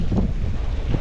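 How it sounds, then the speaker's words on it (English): Strong wind buffets the microphone outdoors as a storm seems to approach, a steady loud low rumble with gusty surges throughout and no speech. "It got really, really windy really fast."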